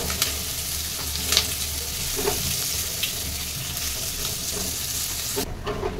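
Spices, turmeric and boiled potato fry in a pan with a steady, close hiss of sizzling oil, marked by a few soft spoon taps and scrapes from stirring.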